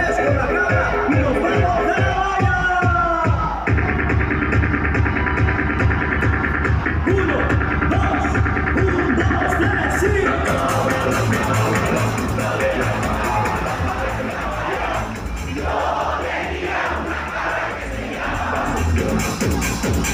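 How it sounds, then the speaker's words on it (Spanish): A large crowd sings together loudly over an amplified band, voices blending into a dense, continuous roar with cheering. "Todo mundo cante esto como nunca y suena así."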